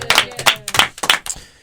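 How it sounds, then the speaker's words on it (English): A few people clapping in a TV studio on a high school sports show, sparse, close and uneven claps in quick bursts that thin out and stop after a moment. "Big round of applause for you."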